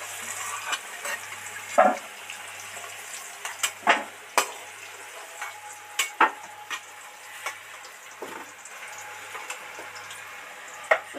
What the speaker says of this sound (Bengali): দেখুন বন্ধুরা কত সুন্দর ডিপ ফ্রাই করেছি আলুগুলো, সুন্দর একদম লাল লাল করে ভাজা হয়ে গেছে।